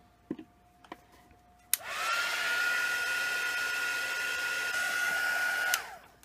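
Hair dryer blowing on wet gesso, switching on abruptly after a few faint clicks and running as a steady loud whir for about four seconds before cutting off.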